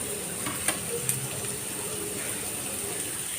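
Garlic, carrot and chili flakes sauté in a pan with a soft, even sizzle, close by, marked by a couple of light utensil clicks early on.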